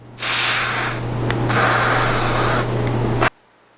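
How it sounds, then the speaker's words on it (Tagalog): A can of cooling spray blasted onto the sticking point of a chocolate display piece, two loud continuous hissing bursts with a brief gap, close up, then cut off abruptly. "So you need to cool spray the sticking point first."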